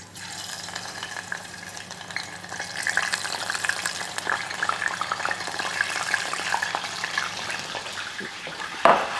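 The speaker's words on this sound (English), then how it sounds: "So they've been frying in there for about a minute and a half." Battered oysters deep frying in hot oil give a steady, close sizzle and crackle that grows slightly denser over time, with a faint clatter near the end and no voices.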